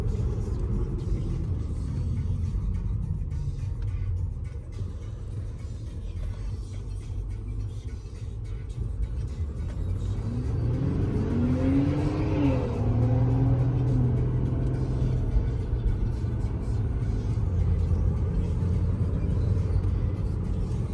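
A 2021 Audi A8L 3.0 TDI quattro diesel engine drones steadily, then rises in pitch as the car accelerates, a low rumbling roar heard from inside the cabin.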